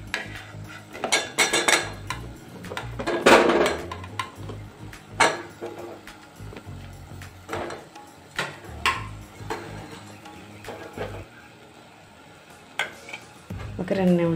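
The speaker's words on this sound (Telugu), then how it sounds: "ములక్కాడ ముక్కలు వేసేసుకుందాం." Drumstick pieces go into a pan of curry with garam masala and are stirred, making repeated close metal clanks and scrapes of a spoon against the pan over a soft frying sizzle, with occasional faint talk.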